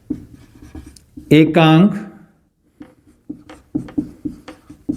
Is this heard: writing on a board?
yes